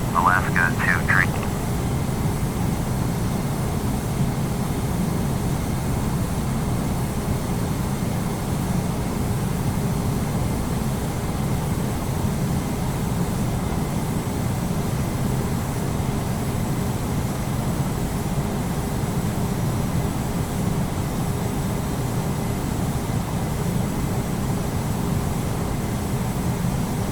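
An airliner takes off in Microsoft Flight Simulator X, a steady, loud, broad jet engine roar sustained throughout, with radio talk at the start.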